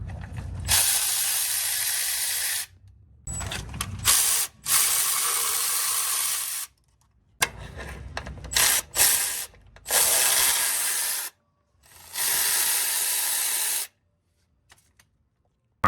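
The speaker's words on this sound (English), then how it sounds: "We'll drop the starter down and then get the motor mount bolts and the studs taken out of the brackets." A ratchet cranks out motor mount bolts and studs during removal of a Cadillac CTS-V engine. The rapid clicking comes in repeated bursts of a second or two, separated by short silences, close and fairly loud.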